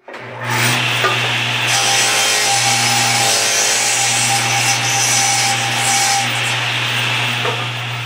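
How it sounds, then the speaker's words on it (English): Old glue being removed from a busted wooden laundry hamper part by a power sanding or scraping machine, a loud, steady, continuous abrasive grinding that runs unbroken for the whole stretch with a constant motor hum beneath. "mostly I need to remove the old glue"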